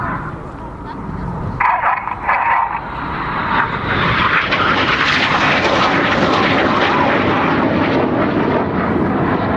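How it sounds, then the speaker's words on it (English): Red Arrows jets at the 2014 Royal International Air Tattoo roar past at an airshow, the engine noise swelling into a loud, sustained rushing thunder, with a commentator's voice faintly underneath at first. "These 4 aircraft are now closing at 850 miles an hour."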